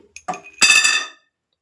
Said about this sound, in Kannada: ಇವಾಗ ಒಂದು ಕಡೆಗೆ ನಾನು ಈ ಖರ್ಜೂರದ ಬೀಜನ ಹಾಕ್ಕೊಳ್ತಾ ಇದ್ದೀನಿ